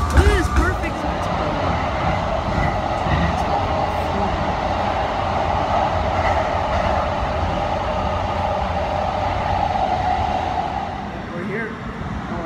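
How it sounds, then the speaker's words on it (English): A steady rumbling roar of an arriving train with rail rattle fills the scene, loud and sustained, then fades slightly near the end. "And there's the train."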